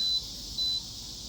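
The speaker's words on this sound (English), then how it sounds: "we're going to hear the 2 beeps." Two short, high electronic beeps from a Masterbuilt smoker controller pairing, sounding a moment apart over a low background hum, faint and thin.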